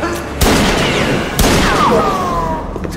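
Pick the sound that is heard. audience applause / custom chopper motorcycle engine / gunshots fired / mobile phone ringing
gunshots fired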